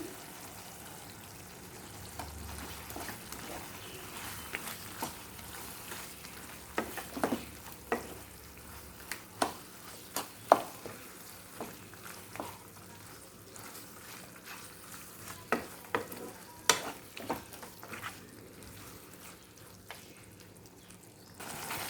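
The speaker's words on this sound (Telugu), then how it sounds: "ఉప్పు పసుపు బాగా కలిసేటట్టు తిప్పుకుంటూ మరో మూడు నాలుగు నిమిషాలు వేయించుకోవాలన్నమాట" Mutton pieces with salt and turmeric frying in peanut oil, a soft, quiet sizzle broken by sporadic scraping and clinks of a spoon stirring the pan.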